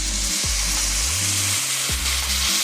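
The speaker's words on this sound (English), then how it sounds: "Now you can add in your beef broth." Beef broth hitting a hot pot of melted butter, a loud steady sizzle and frying hiss with a few stirring scrapes, close up and without talk.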